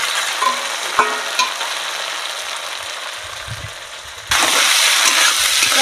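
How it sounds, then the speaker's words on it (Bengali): Ginger-cumin paste and slit chillies frying in oil for a vegetarian banana flower dish, a steady sizzle with a few utensil knocks, then a sudden louder burst of hissing near the end, no voices. "আদা জিরে বাটাটা আর লঙ্কা চিড়ে একসঙ্গে ভালো করে ভেজে নেব"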